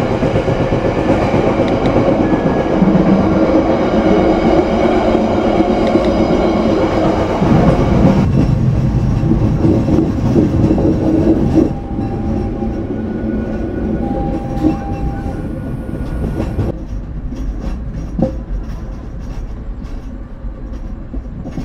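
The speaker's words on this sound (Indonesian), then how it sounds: "saat ini kereta api Pandalungan berada di peta stasiun Pasuruan, stasiun Bangil" An Indonesian Pandalungan passenger train rolls along the rails near Pasuruan and Bangil stations, a loud, steady rumble with clickety-clack wheel rhythm that eases to a quieter run as it slows.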